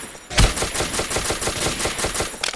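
Rapid automatic gunfire in the blocky shooter Ace of Spades: a fast, even burst of close, loud shots at a steady machine-gun rhythm, lasting about two seconds with no talking.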